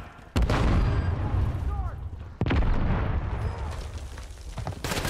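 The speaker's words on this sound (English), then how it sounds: "Stun grenade out!" A stun grenade goes off in Call of Duty Warzone, giving two loud, sharp bursts about two seconds apart, each trailing into a rumbling decay, with game noise and a voice faint in the background.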